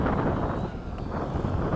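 Strong gusty wind buffets the microphone at a field where a Hobby King 70mm Skysword RC jet on 6s flies, a loud low rumble that briefly dips and swells over under two seconds.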